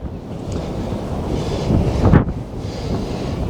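Wind buffets the microphone at Crooklets Beach in Bude, roaring steadily over distant surf. A stronger gust swells briefly midway.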